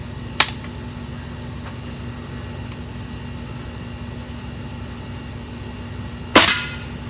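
A Diana RWS Model 48 .22 air rifle fires Premier 14.3 pellets: a faint sharp pop early on, then a louder, crisp crack a few seconds later, with quiet background hiss between.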